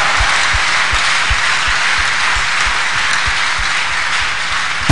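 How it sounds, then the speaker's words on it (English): A church congregation applauds in praise, a dense, steady wash of clapping with low rhythmic thumps beneath it, loud and continuous for the whole stretch. "Shall we clap unto the Lord and appreciate him now?"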